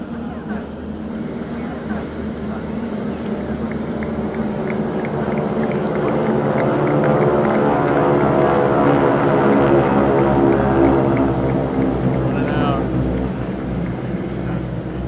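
A formation of North American T-6 Texan trainers, 600-horsepower radial-engined warbirds flying in two flights of four, drones steadily overhead at a WWII VE Day ceremony, swelling to a broad, loud roar mid-pass and easing slightly as they go by.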